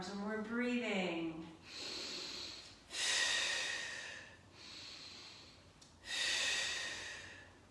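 Steady audible breathing during a seated senior fitness class arm exercise, with several long breathy exhalations in a row, close and moderately loud, following a brief voiced sound at the start.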